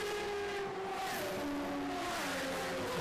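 600cc racing motorcycles at the Southern 100 race scream past at speed, engines howling at high revs with pitch sliding as they pass, one machine after another close by in a continuous loud roar.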